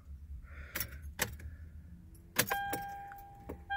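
An ignition key jangles and clicks as it turns in a 2007 Toyota 4Runner V8, followed by a steady electronic chime from the dashboard in a quiet cabin.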